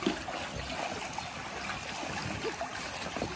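Water splashes and sloshes as people make waves with inflatables in a pool, a steady wash of lapping and trickling with a few sharper slaps, fairly faint and continuous.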